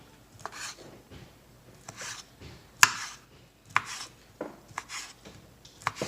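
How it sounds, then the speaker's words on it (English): Sausage made from chicken is knife-chopped into little pieces on a board, a run of sparse, irregular taps close by with occasional sharper clacks, no talking. "So I'm just going to chop it up into little pieces."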